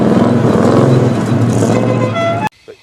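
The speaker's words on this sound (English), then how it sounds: "Amazed at the apparent easiness of our challenge, we fired up the V8s." Lotus Esprit V8 engines firing up, a loud rumbling engine roar that builds and holds with a rising tone before cutting off abruptly, followed by near silence.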